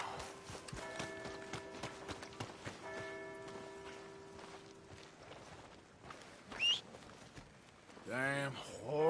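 Horse hoofbeats in a PS4 video game, soft rhythmic clip-clop running under game music tones and a few whooshing effects, rising briefly near the end.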